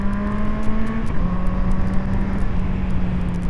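An engine drones and revs steadily up close while overtaking a tricycle on a Philippine road, its tone shifting slightly partway through over a constant rush of wind and road noise, with no voices.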